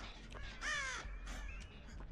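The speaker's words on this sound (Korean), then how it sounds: "아, 까마귀 소리도 나고" Crows caw in the Dead by Daylight video game, a few harsh calls rising together near the middle over a steady game ambience, moderately loud and clear.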